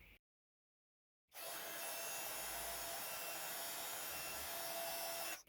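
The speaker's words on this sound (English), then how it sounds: "let's heat emboss those smaller flowers as well" Heat gun blowing steadily to emboss stamped flowers on a handmade card, a loud continuous whoosh that starts abruptly after a second of silence and runs unbroken to the end.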